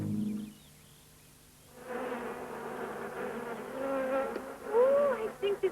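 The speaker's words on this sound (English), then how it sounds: "those bees have been busier than bees" Bees buzz in a continuous drone that swells and wavers, with individual insects whining past close by and rising near the end.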